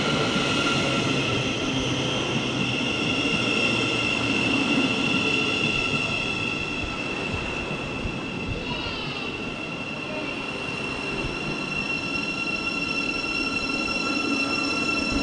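Thameslink Class 700 unit 700-045 on a St Albans City service, a long electric train, rolls through the station with a steady, loud rail roar and high traction whine, a brief squealing sweep rising midway.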